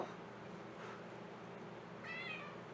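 A house cat lets out a single short meow near the end, faint and fairly close, over a low steady background hiss.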